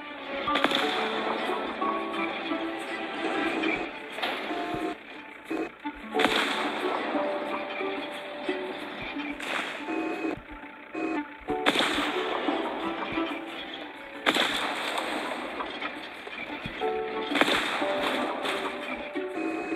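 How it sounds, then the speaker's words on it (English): Crashing and smashing as a tree is destroyed in the game City Smash 2, dense bursts of cracking and whip-like snaps with short pauses, loud and busy throughout. "There we go, I destroyed a tree."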